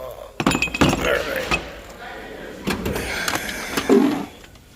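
The electrical drawer of a metal tool box slides open with clunks and clinks, a few rattling bursts of drawer and tool contents; people talk in the background.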